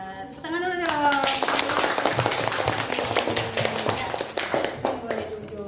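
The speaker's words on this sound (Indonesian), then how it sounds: "Tepuk tangan dulu dong." Students clapping together in a classroom, a dense run of hand claps lasting several seconds after a brief opening voice, with children's voices mixed in throughout.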